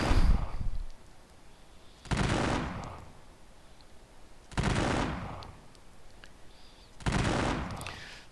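Volleys of infantry and artillery fire in a war strategy video game, three loud separate bursts spaced a few seconds apart, each cracking out and fading into quiet.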